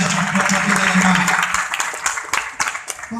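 An audience at a pastor's talk breaks into loud, noisy applause that holds steady, then breaks up into scattered individual claps with murmuring voices as it fades.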